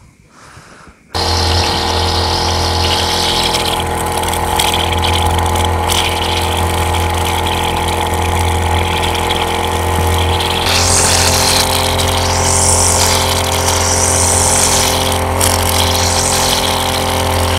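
A Honda brush cutter fitted with wire trimmer line starts after a brief quiet moment, then runs close and loud with a steady buzzing engine drone that rises in pitch as it revs harder toward the end.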